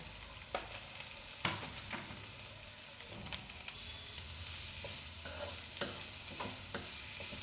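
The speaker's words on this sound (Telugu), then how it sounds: "ఈ ఉల్లిపాయలు ఎంతవరకు వేగిస్తానో చూపిస్తాను" Onions fry in oil for a sour curry, a soft continuous sizzle broken by repeated scraping strokes of a spatula against the pan, fairly quiet and close with no talking.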